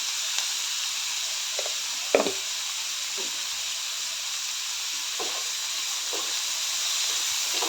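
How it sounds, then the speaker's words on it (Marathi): Onion and tomato sauté in a pan with salt, a steady steamy hiss under a few scattered knocks and scrapes of a spoon, heard without any talking. "कांदा टोमॅटो चांगले परतून घ्यायचं आहे"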